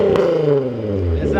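A Volkswagen VR6 car engine drones past at night, a smooth, fairly loud rising and falling hum lasting about a second.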